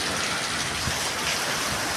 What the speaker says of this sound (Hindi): अब आपको शायद सुबह और बारिश की साउंड आ रही हो